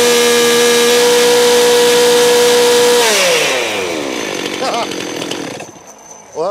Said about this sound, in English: And Josh, start the chainsaw.